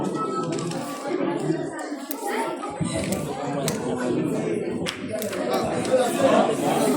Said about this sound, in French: Un grand applaudissement pour lui.